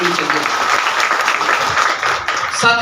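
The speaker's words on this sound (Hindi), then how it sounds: "मैं चाहूँगा कि एक बार उनके लिए एक जोरदार ताली होनी चाहिए।" Audience applause at an IMC Business business meeting in Umarvada, a dense steady clatter of many hands held for nearly three seconds, fairly loud, with faint voices mixed in near the end.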